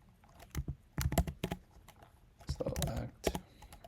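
Keys clatter on a computer keyboard in quick irregular bursts during crossword solving, close and fairly quiet, with pauses between runs of typing.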